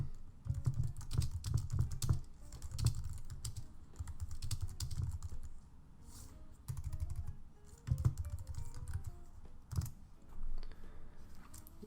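Steady, fast typing of random text on a computer keyboard, close and fairly loud, with dense clicking keystrokes that pause briefly now and then across the whole stretch; no speech.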